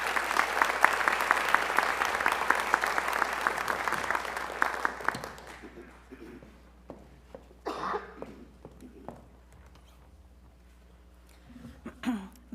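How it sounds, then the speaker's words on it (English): Audience applause rings out at an academic honors day ceremony for about five seconds, then stops abruptly, leaving a quiet room with scattered coughs, shuffling and faint murmurs. "So if we can just give her a round of applause."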